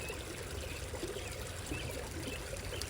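Gently trickling water runs in a soft, continuous stream, faint and close, with a steady bubbling flow and no voices over it.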